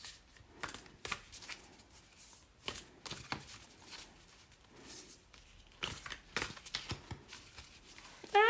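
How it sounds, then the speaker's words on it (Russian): A hexagonal tarot deck is shuffled by hand in short, close bursts of riffling and sliding card noise separated by brief pauses, with no speech. "Давайте перемешивать карты."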